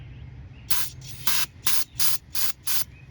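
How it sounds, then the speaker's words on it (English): Six short, sharp bursts of aerosol spray onto a rusty bolt in quick succession, each a loud hiss lasting a fraction of a second, over a low background hum in a shop. "you can take your bolt and spray your bolt down too"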